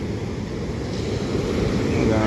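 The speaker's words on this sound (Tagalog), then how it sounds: "Ang lakas ng impact ng alon dito." Strong ocean waves pound a beach at close range, a steady loud roar of surf and churning water with wind buffeting the microphone throughout.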